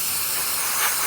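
Steady steam hisses from a Jura Impressa F8 coffee machine, just repaired after leaking, as one continuous broadband jet close by that swells a little near the end.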